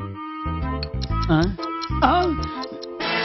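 A wristwatch ticking as heard through a doctor's stethoscope in a comedy scene gives quick, steady ticks that run under voices and background music.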